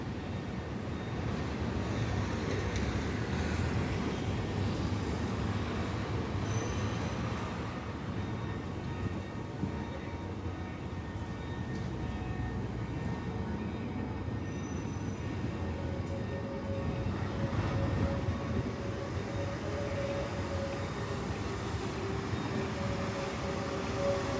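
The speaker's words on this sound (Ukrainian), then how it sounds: "Зустрічний трамвай. Електрон з цього, з цього маршруту. Проїжджає вулицю Підвальну." A tram rumbles past steadily along Pidvalna Street in Lviv with occasional high wheel squeals, a continuous rolling noise lasting the whole stretch.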